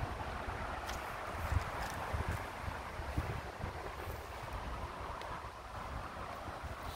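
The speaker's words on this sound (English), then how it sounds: "It's kind of windy out here" Steady wind blowing outdoors on a patio set with a spring table, a continuous broadband rush and buffeting across the mic, moderately faint with small gusts and no voices.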